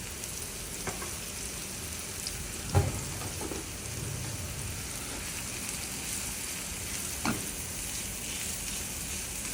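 Food sizzles in a small skillet dusted with light chili powder, a steady close hiss with a couple of soft clicks of stirring, and no voices.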